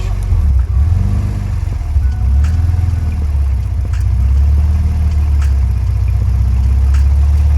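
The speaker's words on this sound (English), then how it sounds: "you're going to hear the engine RPMs drop and the exhaust note change" A Toyota engine runs with a deep, steady exhaust rumble that shifts slightly in pitch as the RPMs drop, loud and close throughout.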